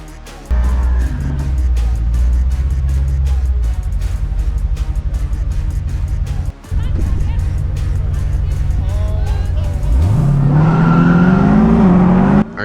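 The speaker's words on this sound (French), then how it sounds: "Et c'est parti pour la deuxième course, la Corvette à gauche et la Camaro à droite." A Corvette Z06 and a Camaro ZL1 launch in a half-mile drag race, engines roaring loudly with rapid popping exhaust, then a rising howl as one car accelerates hard near the end. A commentator speaks over the noise.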